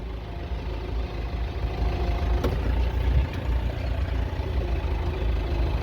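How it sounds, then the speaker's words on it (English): A 50 horsepower tractor engine idles steadily, a continuous low rumble close by with no talk over it. "so I'm going to try loading here with this tractor"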